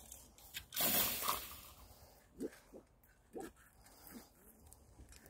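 Rescued puppies give a few short, faint whimpers and yips, spaced irregularly over a soft background with a brief louder rustle early on.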